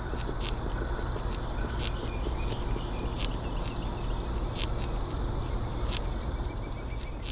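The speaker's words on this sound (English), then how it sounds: "the sound of a beetle grub chewing under the bark of a pine tree" A beetle grub chewing beneath pine tree bark gives a faint, continuous fine crackle, set within a dense, steady insect chorus with a high ringing tone, close and even throughout with no voices.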